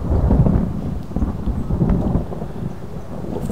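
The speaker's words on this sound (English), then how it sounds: "I love this thunder." Rolling thunder rumbles through a rainy storm in the video game DayZ, a loud, sustained low roar with rain hissing underneath and no voices.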